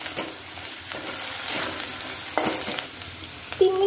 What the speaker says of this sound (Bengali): আলুটা কেটে আলুটাকে একটু 2-3 মিনিটের মতো ভেজে নেব।